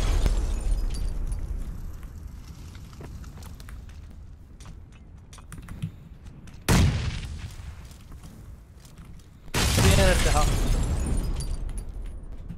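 Grenade blasts in the battle-royale game PUBG: two loud, sudden booms a few seconds apart, the second with a longer rumbling tail, amid people talking over game sounds.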